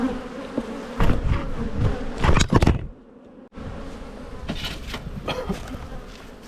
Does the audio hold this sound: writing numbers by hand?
no